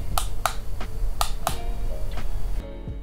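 Power button of a PUTIKEEG Morse code trainer clicking, several sharp close clicks spaced irregularly over a steady background hum, ending in near quiet.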